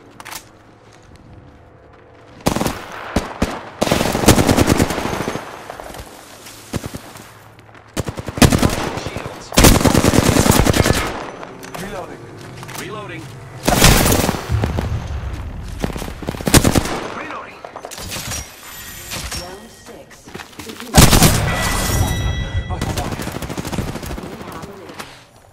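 Video game gunfire in Apex Legends: repeated loud bursts of automatic fire and single shots in clusters, separated by quieter gaps of footsteps and game sounds, with a voice briefly talking.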